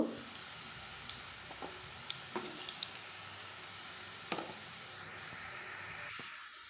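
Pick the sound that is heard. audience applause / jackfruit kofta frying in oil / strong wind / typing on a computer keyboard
jackfruit kofta frying in oil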